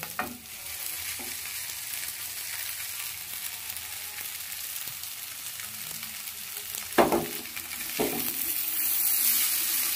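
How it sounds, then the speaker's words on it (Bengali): Boiled, cooled noodles are stir-fried in a pan with fried winter vegetables for Hakka chow mein, producing a steady close sizzle broken by a few sharp scrapes and clatters of stirring, with no talking. "সবজিগুলো সব ভালো করে ভাজা হয়ে গেছে, এবার সেদ্ধ করে রাখা যে নুডলসটা আছে ঠান্ডা করে নিয়েছি, এবার এর মধ্যে দিয়ে দেবো।"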